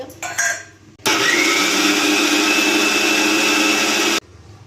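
Mixer grinder running steadily as it grinds soaked rice into a fine paste, a loud continuous motor whine lasting about three seconds, starting and stopping abruptly, with quieter kitchen sounds before and after.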